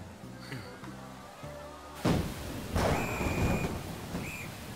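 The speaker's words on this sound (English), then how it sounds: "Rain." Rain pours down in the video game Persona 5 Royal, a steady broad hiss that starts abruptly after soft music, with a thunder crack and light sound effects layered over the downpour.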